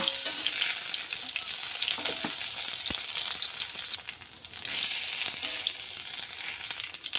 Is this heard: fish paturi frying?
yes